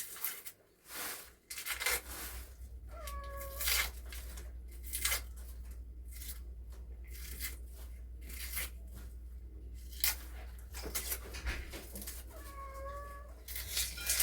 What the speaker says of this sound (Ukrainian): Не нявкай, ти не голодний